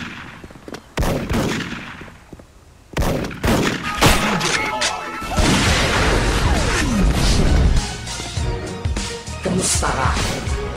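Loud, dense gunfire in a first-person shooter video game, with repeated sharp shots and bursts layered over music and effects for most of the stretch, alongside chanted vocals.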